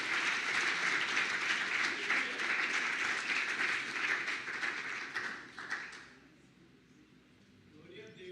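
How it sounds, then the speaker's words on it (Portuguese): A church congregation applauds during a worship service, a loud sustained wash of clapping for about six seconds that then dies away into quiet room tone. "Você pode aplaudir Jesus para isso?"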